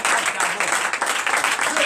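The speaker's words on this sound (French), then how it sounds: "Donnez l'acclamation" A church congregation at a Sunday service in Benin bursts into dense, loud, continuous applause and cheering that fills the space without a break.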